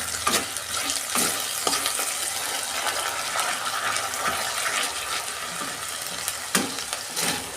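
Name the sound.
ginger garlic paste frying with onions being stirred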